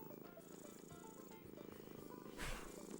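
A house cat purrs steadily and close up, a soft continuous rumbling throb with a brief louder swell partway through, no talking.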